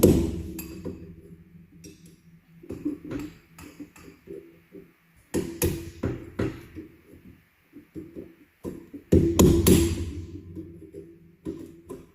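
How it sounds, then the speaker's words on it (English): Metal tools clink and clatter on the ground while a driveshaft bearing is replaced on a 1971 Chevy truck, with scattered sharp impacts and one louder burst of rattling partway through. "Screwdriver drop."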